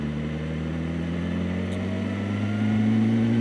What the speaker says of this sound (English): in race pro mode you can have the burbles of the exhaust